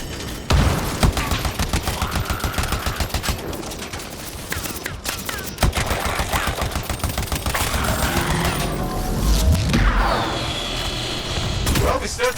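Enemy gunfire in Anthem gameplay, dense rapid bursts of shots crackling almost continuously and loud at close range, with a voice talking underneath.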